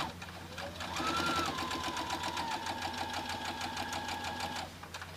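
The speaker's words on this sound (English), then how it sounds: "And I'm going to sew again, making sure these are lined up really nicely." A sewing machine stitches quilt binding made from Art Gallery Fabrics, giving a fast, steady run of close mechanical clatter that starts, holds for several seconds and then slows and stops, with a brief faint whir near the start.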